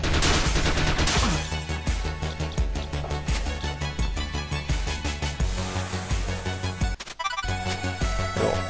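Flamethrower firing in The Mummy Demastered, a steady rapid stream of crackling bursts over game music, loud and sustained with a brief break near the end.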